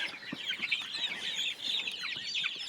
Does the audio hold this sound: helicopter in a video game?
no